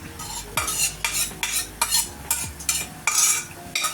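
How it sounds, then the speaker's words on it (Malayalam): Soaked horse gram stirred in a pan with a utensil: repeated scraping strokes at a steady rhythm, each a short gritty swish against the metal, close up with faint sizzling beneath and no voices. "ഇനിയിപ്പോൾ ഞാൻ ഈ മുതിര അങ്ങോട്ട് ഇട്ട് കൊടുക്കാൻ പോവാണേ"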